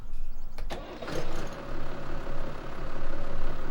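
Engine of a 1955 Oliver classic tractor fitted with a muffler in Farming Simulator 17, a low steady idle with a sharp click near the start and gently swelling, pulsing rumble throughout.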